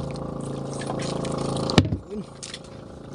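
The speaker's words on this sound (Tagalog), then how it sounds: "Lagyan mo tubig yun." Water is poured into a container, a gurgling fill that runs steadily before a sharp knock and a quieter trickle, all under background voices.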